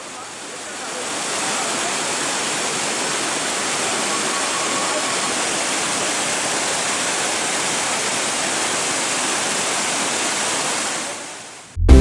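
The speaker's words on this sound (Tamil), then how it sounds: "அருவி ஆகிய அருவிகளில் நீர் ஆர்ப்பரித்து கொட்டுகிறது" Water roars down waterfalls at the Kodaikanal hills in a dense, steady rushing wash that swells in after the first second and holds loud and unbroken, ending in a brief clatter.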